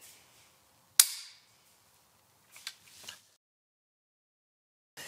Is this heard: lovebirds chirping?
no